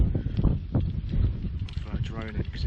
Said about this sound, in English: sorry about the wind. It's gone windy now.